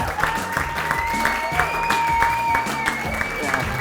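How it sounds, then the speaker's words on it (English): Applause from a wedding-industry awards audience at a Bride of the Year event, steady clapping with a faint tonal hum beneath it. "So please, a round of applause to the whole SA Weddings team."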